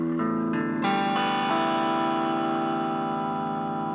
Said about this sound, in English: And what we're going for here is distortion.